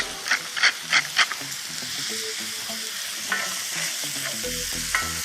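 Onions fry and sizzle in a pan for spinach baklava, with a few close stirring scrapes and clinks over a steady soft sizzle, and no voices.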